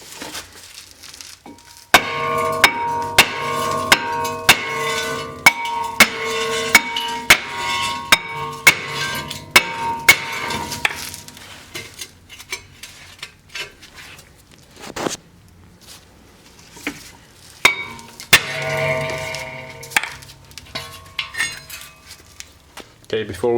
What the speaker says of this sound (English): if they're stuck we're going to use a sledgehammer and hammer on the bottom here